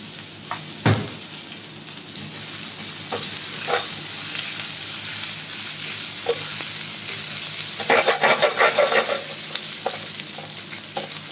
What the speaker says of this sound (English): this is the tempering which we will put on top of the brinjal. It has garlic, it has ginger, it has mustard seed, it has green chili, it has curry leaves